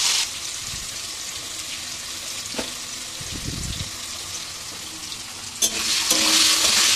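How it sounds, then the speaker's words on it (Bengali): Potatoes sizzle steadily in hot oil in a home kitchen, a close, continuous crackling fry with occasional clinks and stirring scrapes and a louder burst of spitting near the end. "তো দেখো মা হচ্ছে আলুগুলো ছেড়ে দিল তেলে"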